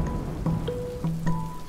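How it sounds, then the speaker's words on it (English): Cartoon rain falling steadily in a children's animated show, a soft continuous patter with a few gentle tonal blips over it, no talking. "Oh, rain."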